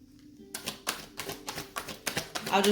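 Rapid papery riffling and soft tapping of tarot cards being shuffled, in short bursts close to the microphone, with a faint tonal hum underneath.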